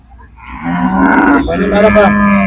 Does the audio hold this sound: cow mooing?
yes